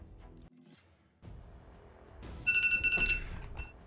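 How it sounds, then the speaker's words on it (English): A timer alarm in the mobile game Raid: Shadow Legends goes off as a bright, repeated electronic beeping tone, loud and close, following a few seconds of quieter clicks and rustles. "that is the timer going off now"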